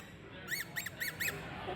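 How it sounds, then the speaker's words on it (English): Four short, bright squeaks in a quick, even rhythm from a 3D-printed squeaker toy being squeezed up close, with a faint background hiss. "And a 3D printed squeaker."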